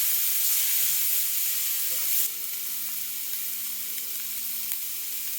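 Meat sears in a pan over a campfire with a loud, steady sizzle that drops slightly in level partway through and then carries on as an even hiss with faint steam.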